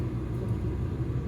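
Car interior at night with a parrot riding along, a steady low engine and road rumble, even and continuous with no talk over it.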